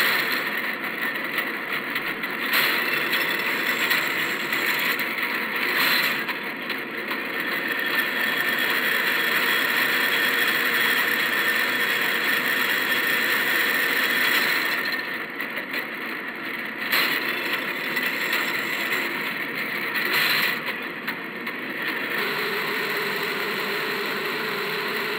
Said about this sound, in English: This is the spinning room.